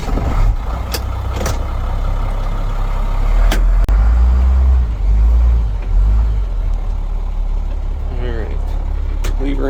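A rollback tow truck's engine runs in a steady low rumble throughout, with a few sharp metallic clicks and clunks from the mechanism and someone talking over it at times.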